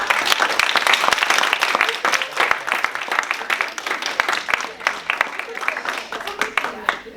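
Audience at a student government presidential forum claps for the candidates, many distinct sharp claps forming steady applause that thins slightly toward the end, with a voice talking over it.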